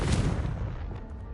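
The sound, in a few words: Confringo spell being cast in Hogwarts Legacy video game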